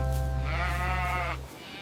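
A single drawn-out sheep bleat rises over a soft musical backing in a children's nursery rhyme, wavering for about a second before fading, with gentle instrumental tones underneath.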